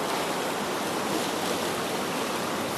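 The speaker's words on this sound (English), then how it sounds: "But that current right there is roaring." Fast current on the Housatonic River roars in a steady, loud, continuous wash of rushing water that fills the whole stretch without pause.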